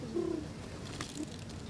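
A human voice imitates a pigeon's soft cooing: a brief low throaty coo near the start, a shorter one about a second later, over steady room noise with no speech.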